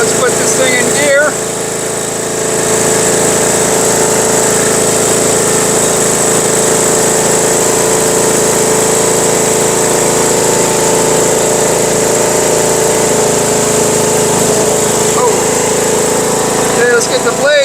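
A lawn mower engine runs loudly and steadily close by, droning at an even pitch from start to finish as it is put into gear, with a person talking over it.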